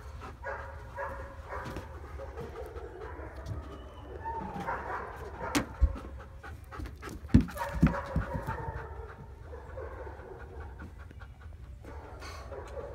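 A dog about four years old pants steadily and rhythmically at close range throughout, over a noisy background with faint bird calls and a few brief knocks.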